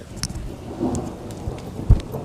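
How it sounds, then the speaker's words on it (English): Thunder from an approaching thunderstorm rumbles low and moderately loud under steady rain patter, with a sharp close thump near the end. "We got thunderstorms rolling in."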